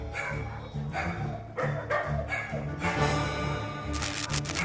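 A dog barks several times in sharp, close barks amid background music and noise, with a high tone rising toward the end.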